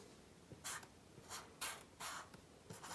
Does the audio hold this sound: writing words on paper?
yes